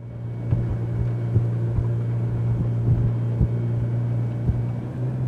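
A Frauscher 747 Mirage motorboat doing gentle turns on open water, its engine a steady low drone with light wind and water noise, heard continuously at moderate distance without speech.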